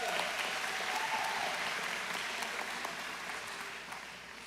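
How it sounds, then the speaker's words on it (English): Audience applause for a college choir at a commencement ceremony, broad and sustained clapping from a large crowd that fills the whole stretch and slowly tapers. "Let's give them another round of applause."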